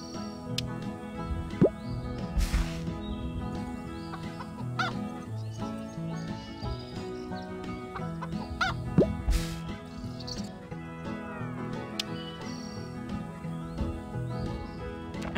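Clucking chickens on a farm in the mobile game Hay Day, scattered soft clucks and pops over a continuous cheerful background music bed.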